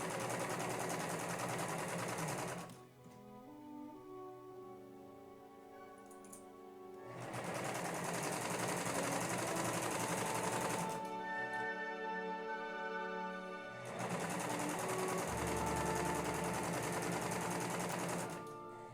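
A sewing machine stitches a side seam on a gathered skirt for a 1950s dress in three long, steady runs of rapid whirring, with pauses between them.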